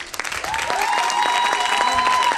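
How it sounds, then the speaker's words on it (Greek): An audience at a live Greek televised music show applauds the orchestra, a dense, sustained burst of clapping that swells quickly and holds steady. "Θα δώσουμε ένα ζεστό χειροκρότημα στην υπέροχη ορχήστρα μας"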